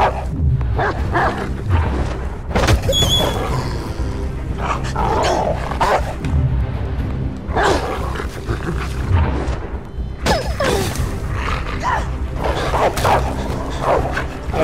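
Dog barking in the video game Beyond Two Souls, a string of loud, close bow-wow barks and yips repeating over a busy game soundscape.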